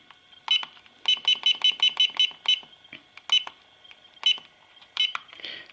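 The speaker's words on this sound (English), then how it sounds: "Sorry about the beeping, I can't do anything about that." An Alphapoc 602R pager emits bursts of rapid electronic beeps during setup, several quick runs of tones separated by short pauses, close and clear.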